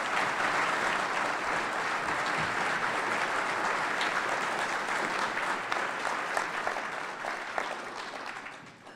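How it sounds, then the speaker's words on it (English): A City Club audience at a Democratic governor candidate debate gives a sustained round of applause welcoming the candidates, steady and full before tapering off at the end. "let's welcome our candidates with a round of applause"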